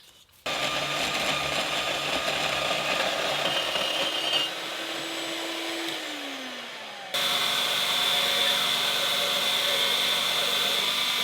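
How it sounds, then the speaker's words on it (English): A bandsaw cuts through a part for an experimental sling bow, giving a steady, close whine and rasp that shifts in pitch partway through, then jumps louder as the cut continues. "when using the bandsaw, safety is important."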